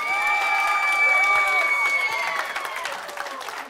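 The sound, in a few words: applause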